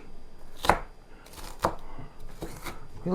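Onion is chopped finely on a cutting board, three distinct knife strikes landing about a second apart over a quiet background.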